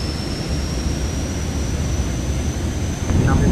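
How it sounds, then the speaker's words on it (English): Airliner jet engines spooling toward takeoff thrust in Microsoft Flight Simulator 2024, a steady broadband roar with a thin high whine, swelling louder near the end. "Thrust lever set to takeoff position."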